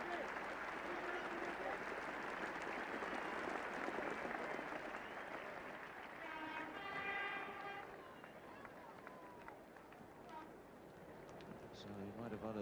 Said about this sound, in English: the crowd here at Old Trafford rising to greet him